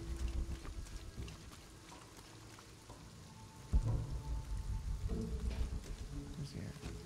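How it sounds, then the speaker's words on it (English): Steady storm rain in the video game Shadow of the Tomb Raider, a continuous hiss of rainfall with low rumbling wind, a sudden thud near the middle, and a voice speaking faintly over it. "A storm is coming in quick."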